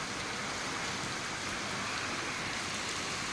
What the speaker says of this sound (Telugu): ఫుల్ వర్షం చూడండి